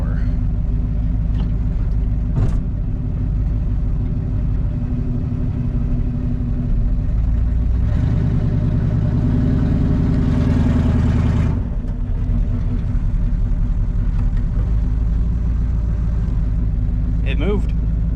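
Dodge Ramcharger engine idling after finally being started, a steady deep rumble with a surge in the middle as it revs, and someone talking over it throughout.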